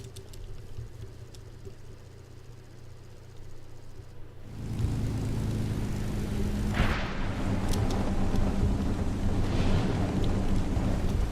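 Rolls-Royce Merlin piston engines drive propeller aircraft in War Thunder, a low, steady droning rumble that swells louder partway through and holds as a broad, continuous roar.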